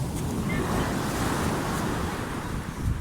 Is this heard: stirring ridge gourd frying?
no